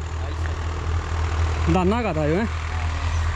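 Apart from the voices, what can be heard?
Swaraj 855 FE tractor engine running in field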